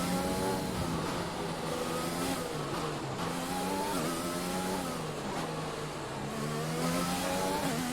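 A Formula 1 car engine in the F1 2020 racing game revs steadily through rising and falling gear shifts, a high whining tone climbing and dropping repeatedly for several seconds without pause.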